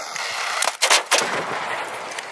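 Gunfire in a shooter video game: a short cluster of two or three sharp, loud shots in quick succession against steady background game noise.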